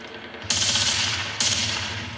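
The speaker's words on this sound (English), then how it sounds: "I think I'm gonna go back to machine gun just for right now." Machine gun fire in the video game Bad Company 2, two loud sustained bursts of rapid close shots, the second starting after a short break.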